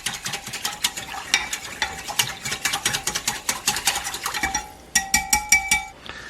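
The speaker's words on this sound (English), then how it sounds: "And mix this all together nice" A spoon or utensil clinks and scrapes rhythmically against a bowl while oyster sauce is mixed into chow mein ingredients, quick repeated taps, close and clear, with a short pause before a final burst.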